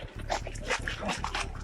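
A police dog gives short, agitated whines and yips in quick succession, fairly close and mixed with background commotion.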